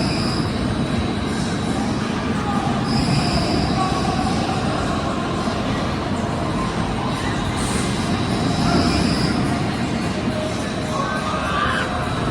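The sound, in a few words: Intamin roller coaster Half Pipe running test cycles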